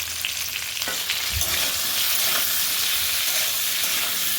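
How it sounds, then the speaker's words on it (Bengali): Potato pieces with salt and turmeric fry in hot oil in a kadai, giving a loud, continuous close-up sizzle with a brief clatter early on. "লবণ আর হলુদ দিয়ে আলুটা ভেজে নেব।"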